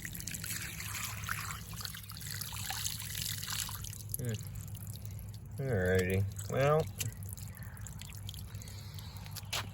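Water trickles and drips steadily in the background while a person talks, with a brief louder splashing pour midway.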